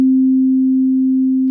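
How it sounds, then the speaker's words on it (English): A steady, pure sine tone from an Akai S01 sampler's default sound, held loud and unchanging for under two seconds before cutting off abruptly. "a sine wave"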